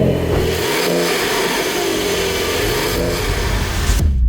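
A Porsche 911 S engine revs hard and loud, its steady mechanical roar climbing through a wind-up that holds for about four seconds before cutting off abruptly.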